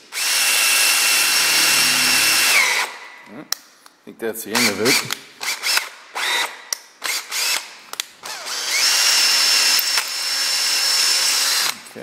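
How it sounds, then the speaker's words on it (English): Power drill boring through a soft wheel stud in a garage, running loud and steady for a few seconds, then stopping while someone talks amid clanks of tools before the drill whines again at length. "Back in a minute and I'll drill through."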